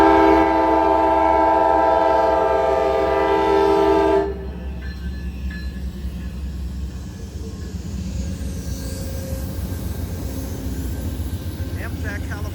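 Amtrak California Zephyr No. 6 eastbound to Chicago sounds a loud, sustained multi-tone horn for about four seconds near Sutro Street in Reno, Nevada, then the rolling train rumbles on steadily close by.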